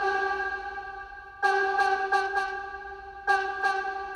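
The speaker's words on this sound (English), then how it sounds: "we can change the amount of the reverb" Sustained tonal notes with sharp struck attacks ring out and decay in a lingering convolution reverb wash, giving a spacious, echoing sound.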